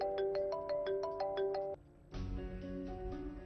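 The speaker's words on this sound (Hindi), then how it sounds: "मेरी बेटी की कॉल है" A mobile phone rings for an incoming call, a bright melodic ringtone of repeated chiming notes, then a short pause before a fuller, busier stretch of the tune, fairly close and with no talk.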